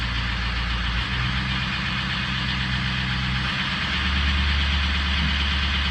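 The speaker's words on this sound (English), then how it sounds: "so I'll rev it up a little slow." A turbocharged 2003 car engine idles on a cold start and is revved slowly, a steady low rumble that swells gently, with no speech.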